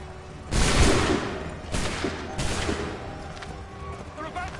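A ragged volley of gunfire in a battle at a barricade, several loud bursts cracking over constant background noise and rumble, with more scattered shots trailing off.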